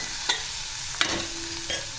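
Fenugreek vegetable mixture frying in a pan, a gentle sizzle under a few distinct scraping and clinking stirs spaced about once or twice a second, close and clear with no speech.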